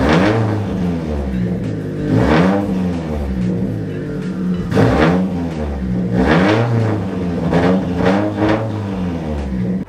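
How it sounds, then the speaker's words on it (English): A Subaru Outback XT engine tuned to about 400 wheel horsepower revs up several times in a steady rhythm, each rise and fall of the motor loud and close, with no talking over it. "Actually, let me give you a little rev,"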